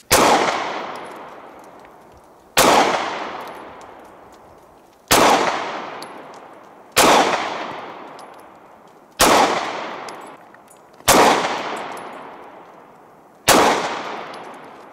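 A Springfield Armory XDs 9mm pistol fires seven loud, sharp shots at slow, fairly even intervals about two seconds apart, and each crack rings out and fades before the next.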